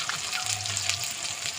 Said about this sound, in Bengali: কাঁচা লঙ্কা আর পেঁয়াজ কুচি দিয়ে দেব, একটু ভেজে নেব।